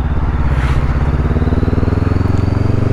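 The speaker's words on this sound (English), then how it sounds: "Oh, my dirty exhaust." Exhaust of a 2020 Honda CBR500 motorcycle on the road, a loud, close, pulsing engine drone held steady throughout.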